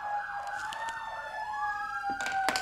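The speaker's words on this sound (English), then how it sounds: "Sirens." A wailing siren sweeps up and down as it passes nearby, loud and continuous, with a couple of short clattering noises near the end.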